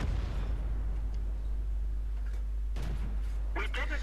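A tank shell ricochets off the armour of a KV-4 heavy tank in World of Tanks, a short sharp metallic impact with a brief crack and clatter late in the clip over a steady low engine hum.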